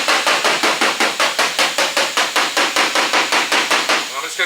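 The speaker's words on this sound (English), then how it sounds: "I'm going to go ahead and take my hammer." A body hammer taps steadily along the edge of a dent in a damaged car's panel during collision repair, about twenty sharp, evenly spaced metallic blows, loud and close, with no talking.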